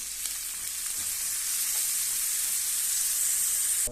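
Onions and chilies frying with garlic in a pan give a steady, loud, close sizzle with a bright hiss. It holds even for four seconds, with a few faint scrapes early on and no talk.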